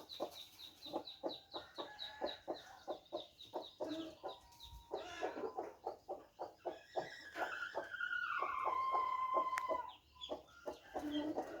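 Chickens clucking in a farmyard flock of hens and a rooster, rapid and close, with busy overlapping calls and a few longer drawn-out notes among the steady clucking.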